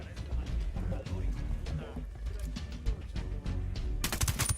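Gunfire in the video game Ghost Recon Wildlands, rapid automatic bursts and scattered shots throughout, with a louder burst near the end and a voice talking over it.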